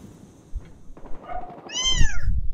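A pet cat gives one clear, drawn-out meow at close range in a quiet room, following a few soft thumps and low rustling.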